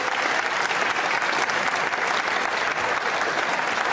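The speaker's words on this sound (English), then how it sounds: "Give them another clap" Sustained applause from a festival livestream audience, a thick even patter of many hands that fills the space without a break, moderately loud.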